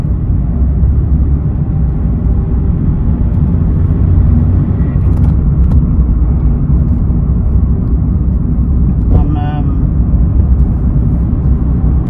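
2010 Suzuki Splash with a 1.2-litre four-cylinder engine on a road drive: a steady, loud engine and tyre rumble under road noise that holds level throughout, with no voices.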